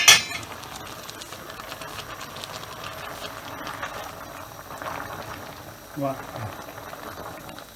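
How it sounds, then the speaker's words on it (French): Sausages and cabbage boiling in a cocotte pot: a steady, rolling bubbling fills the whole clip, with a short word spoken at the start and a brief clunk near the end. "là vous voyez c'est en ébullition"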